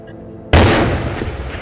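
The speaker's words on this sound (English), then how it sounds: "Grenade!" A grenade goes off in the VR shooter Into the Radius: after a quiet moment, one sudden heavy blast bursts in close and loud, then rumbles and crackles as it fades.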